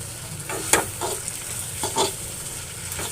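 Kochur loti cooking with coconut paste in a pan gives a low, steady sizzle, while a spoon stirs and scrapes the pan in several short, bright strokes.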